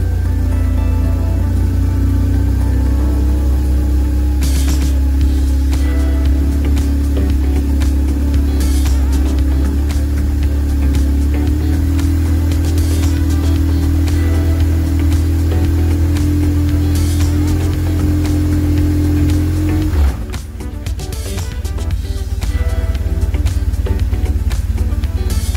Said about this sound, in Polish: Grzejemy silnik i czekamy na trzecią kreskę.